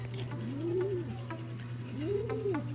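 Racing pigeons in a loft give two soft, rising-and-falling coos close by over a steady background hum, with faint scattered clicks and no talk.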